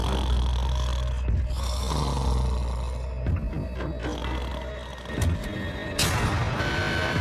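A man snores through the night, long, deep rasping breaths repeating at a slow, steady rhythm, close and loud against a low background hum.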